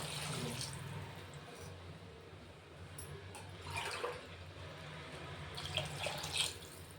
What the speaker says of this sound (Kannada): ಎರಡು ಗ್ಲಾಸ್ ನೀರು ಹಾಕ್ತಾ ಇದ್ದೇನೆ